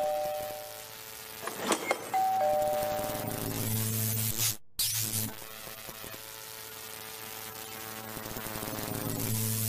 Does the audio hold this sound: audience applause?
no